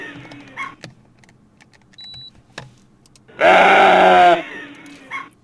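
A single loud, harsh goat bleat lasting about a second, rising out of a quiet background with faint scattered noises before and after.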